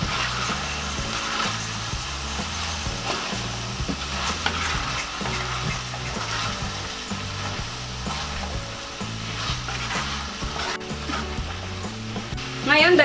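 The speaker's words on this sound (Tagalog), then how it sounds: "Haluin na natin." Pork and green beans with oyster sauce sizzle steadily in a pan while a utensil stirs them, giving a continuous loud frying hiss with repeated scraping strokes throughout.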